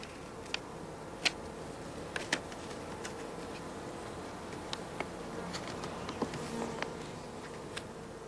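Honey bees in a small mini-nucleus queen-rearing hive give off a low, steady hum, with a few brief sharper ticks and taps scattered over it and no voices.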